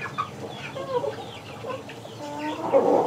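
Several Klawu chickens cluck and chatter close by, with soft overlapping calls that grow busier and louder toward the end.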